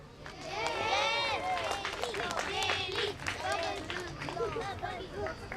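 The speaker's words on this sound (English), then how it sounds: "Will you all cheer for them?" A group of children cheers and calls out excitedly as two reading therapy dogs are brought into the room, a lively babble of young voices rising and falling throughout.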